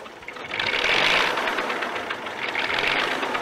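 A Fordson P6 tractor with a six-cylinder Perkins diesel engine running at a threshing event, a steady rough mechanical drone with rattling clatter, continuous and moderately loud, no voices.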